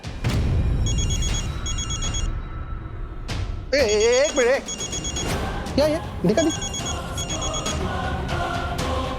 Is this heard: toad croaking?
no